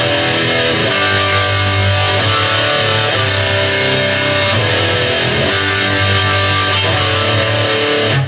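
Thick distorted electric guitar power chords, including an A5, strummed in a steady rhythmic sequence, loud and close, with no talking.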